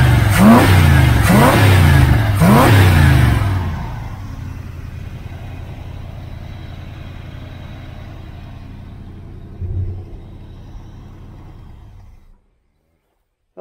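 A 1977 Chevrolet Malibu engine fitted with the carburetor off a Nova revs hard three times in quick succession, loud and close, then settles into a steady idle before shutting off.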